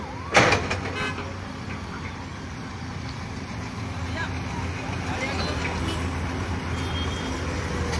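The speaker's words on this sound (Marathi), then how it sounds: "हांगासर सगळे लायनीन ट्रॅफिक जॅम जाल्लो आसा" Steady traffic rumbles in a jam on a road in Porvorim, Goa, with idling cars and heavier vehicles droning continuously, a brief sharp knock near the start, and voices murmuring in the background.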